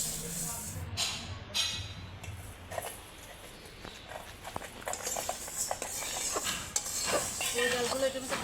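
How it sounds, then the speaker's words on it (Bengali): Mung dal dry-roasting in a pan for khichuri, heard as steady scraping and rattling of the stirring spoon against metal with faint hiss, and a few sharper clinks along the way. "খিচুড়ির জন্য মুগ ডালটা ভেজে নিচ্ছি"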